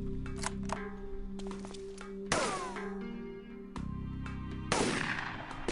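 Gunfire from the video game UFO Aftershock: several sharp shots with ringing tails, spaced a second or two apart, heard over a steady electronic game hum.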